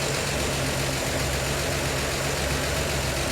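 Cold 1952 Chevy Styleline Deluxe engine idling with a steady, rough low rumble and hissy wash, close and continuous with no voices.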